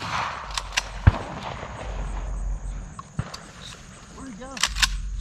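Pump shotgun blasts ring out outdoors during a dove hunt on North Carolina public land, two sharp booms about two seconds apart with fainter distant shots, while people talk over a breezy background.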